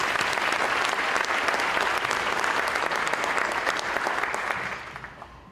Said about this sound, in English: I would like everybody to give all those people a quick round of applause.